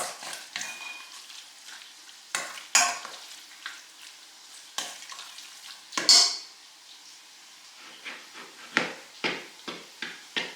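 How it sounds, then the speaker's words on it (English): A spoon stirs a tomato mixture made from canned home-grown tomatoes in a sizzling pan, scraping and clinking against the metal in repeated bursts over a steady frying hiss, close and clear with no talking. "tomato and give it a good mix"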